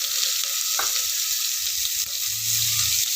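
Mustard seeds, curry leaves and onion sizzle in hot oil in a pan, a steady close hiss with a few small pops and faint stirring, no voices.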